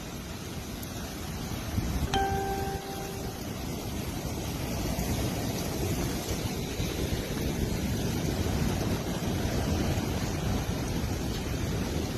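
Strong tornado wind in Iowa roars continuously as a steady, buffeting rush that batters the microphone, broad and loud throughout, with a short tonal whine partway through.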